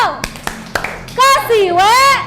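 Children in a classroom play a clapping game, with a few sharp, separate hand claps followed by children chanting loudly in rhythm.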